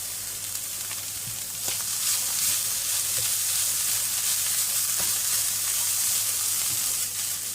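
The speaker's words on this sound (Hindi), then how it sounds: "अब इसमें ये ऑनियन वगैरह ऐड करते हैं थोड़ा सा, ये भी जस्ट ओनली थोड़ी देर के लिए।" Onions frying in a pan for tuna kebabs: a steady, fairly loud sizzling hiss with occasional light clicks and taps of stirring, continuing without talk.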